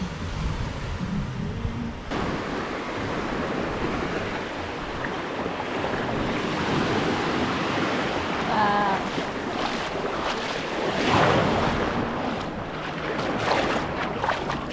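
Ocean waves wash steadily onto a beach at Playa Chiquita, Costa Rica, a continuous close surf roar mixed with gusts of wind buffeting the microphone.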